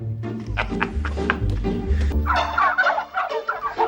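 A turkey gobbles in a rapid, repeated burst of rattling calls, close and fairly loud, with a few short pauses between phrases.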